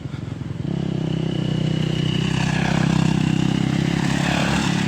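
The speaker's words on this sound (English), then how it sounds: "there's a motorcycle coming." A motorcycle engine rumbles in, quickly growing loud and close, its steady throbbing drone holding strong as it passes.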